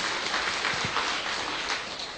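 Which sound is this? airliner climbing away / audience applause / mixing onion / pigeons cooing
audience applause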